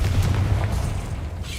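A Confringo fire spell explodes in the video game Hogwarts Legacy, giving a deep, heavy boom that rumbles and fades over a moment, alone without voices.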